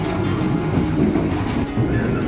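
Steady low rumble and rolling rail noise inside the rear economy car, car 5, of the Cakra Buana train from Cirebon to Jakarta, continuous and fairly loud with no talk.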